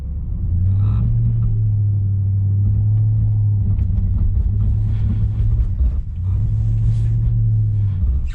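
A 2010 Volvo XC90 V8 with all-wheel drive engaged drives through snow, its engine giving a deep, loud, steady drone that dips briefly and resumes, heard close from inside the cabin.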